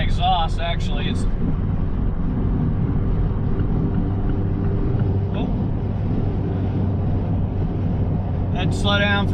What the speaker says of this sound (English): You can hear the exhaust now with the top up.